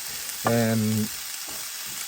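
Onions and garlic sizzle steadily in a big frying pan, a continuous close hiss that runs throughout, briefly overlaid by a single spoken word.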